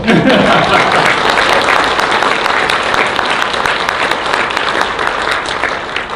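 Audience at a conservative political talk on US-Asia relations breaks into loud, dense applause that starts strongly and stays steady for several seconds, easing slightly toward the end.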